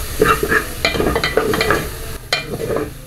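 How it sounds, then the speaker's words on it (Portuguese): Chicken gizzards fry in a pan with little fat while a utensil stirs them in quick, irregular scrapes and clatters over a close, steady sizzle. "Vou misturar."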